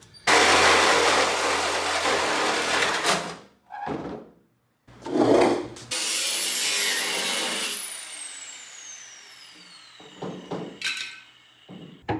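Power tool cutting through an old battery pack enclosure in a workshop, loud bursts of grinding noise separated by short pauses, with a high whine trailing off near the end.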